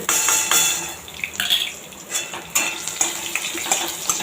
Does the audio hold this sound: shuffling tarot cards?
no